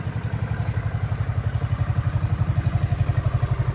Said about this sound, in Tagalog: Meron pong motor.